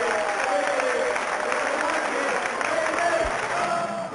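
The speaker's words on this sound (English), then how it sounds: "give the Americans some applause there because he deserved it" A darts crowd at the World Championship applauds a match win, a continuous wash of clapping and crowd noise at steady loudness, with a commentator's voice faintly over it.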